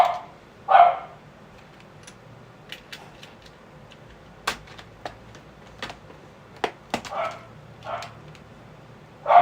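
A dog barks several times at moderate distance, separated by sharp clicking and tapping noises, in a quiet room with a low background hum and no talk.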